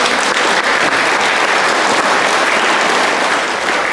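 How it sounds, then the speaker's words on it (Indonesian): Wedding guests at a Batak and Manggarai ceremony applaud together in a dense, loud, steady burst of clapping that fills the room and carries on without pause, with no voices standing out. "Kita berikan tepuk tangan."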